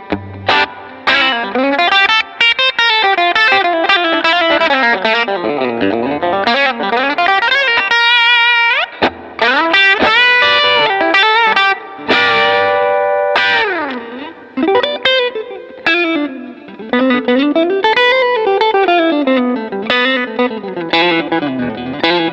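Electric guitar played through a Fender Pro Junior tube amp with a Joyo Spaceverb reverb pedal, loud driven notes and chords with lush reverb and modulated shimmer, continuous playing with no talking.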